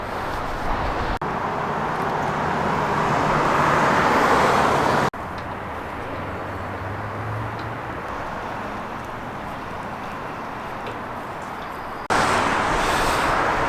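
Continuous roar of street traffic in Renton, Washington, cars and buses rushing past nearby, loud and steady with abrupt shifts in level.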